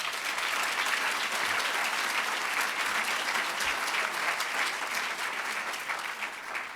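A crowd applauds steadily, a dense wash of clapping that holds for several seconds before easing slightly at the end.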